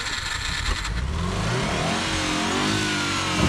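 A jeep engine revs under throttle, a steady, loud mechanical roar that climbs in pitch as the gas is pressed, with no talking over it.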